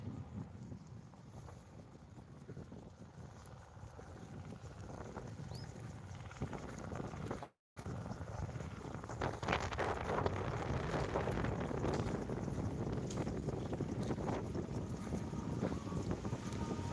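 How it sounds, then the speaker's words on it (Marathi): Steady wind blows across an open farm field, roaring continuously with heavy buffeting on the microphone and a brief dropout partway through. "बघा हवा सुटलेली आहे"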